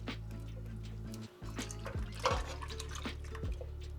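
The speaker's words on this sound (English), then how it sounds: "I'm adding the evaporated milk." Evaporated milk is poured into a pot of simmering rice for arroz con leche, giving a quiet, trickling liquid sound with small splashes and a brief break partway through.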